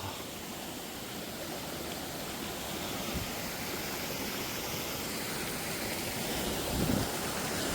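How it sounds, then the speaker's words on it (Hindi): Clear, cold mountain stream water near Chhitkul, India, rushing steadily in a dense, even wash of flowing water that stays loud and constant throughout. "ये देखो भाई पानी, इतना साफ पानी और ठंडा भी है पूरा, चिल्ड"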